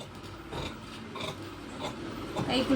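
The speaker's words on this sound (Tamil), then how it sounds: "அதே மாதிரி இந்த ஸ்லீவ் கட் பண்ணிக்கலாம்." Scissors cutting the sleeve of a silk blouse bodice for a skirt set, a steady rasping, rubbing snip-and-slide close by, repeating through the stretch with no talk.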